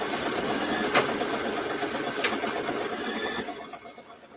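Embroidery machine stitching a hat placement line on a wall hanging, a fast steady needle chatter at close range with a couple of faint ticks, winding down and stopping near the end.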